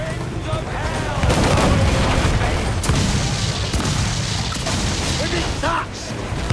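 Ship cannons fire in a naval battle in Assassin's Creed 4 Black Flag, a run of loud, heavy booms over a dense, continuous roar of battle noise, with shouting voices mixed in.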